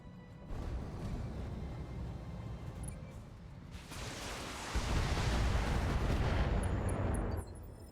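A laser turret and other weapons fire in a battle game, a dense, continuous roar of blasts and crackling that swells louder midway and holds before cutting off abruptly.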